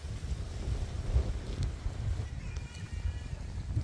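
Steady wind gusts by the sea buffet the microphone as a continuous low rumble with rushing noise, fairly loud and unbroken, with no clear voices.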